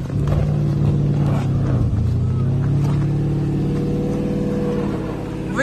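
A Porsche Cayenne with a 4.5T V8 labors steadily off-road while climbing, a loud, continuous droning engine note with little change in pitch, heard from close by.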